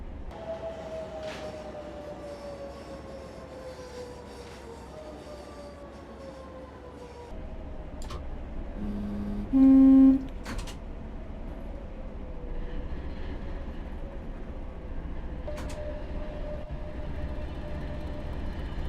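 A Class 20 locomotive pulls out of London Bridge in the game Train Simulator 2017, a steady low rumble of rolling rail wheels with gliding tonal whines and a brief louder horn-like tone midway, no talking.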